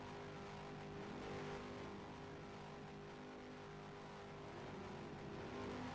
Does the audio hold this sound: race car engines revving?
yes